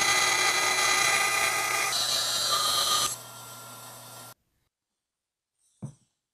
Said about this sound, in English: Then I cut them out on the bandsaw.